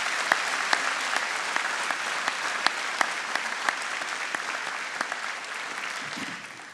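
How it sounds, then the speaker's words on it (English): Audience at a spring college convocation applauds its graduates with steady, sustained clapping, sharp individual claps popping out of a dense wash that holds from start to finish. "Perhaps everyone would join me in a round of applause for our graduates."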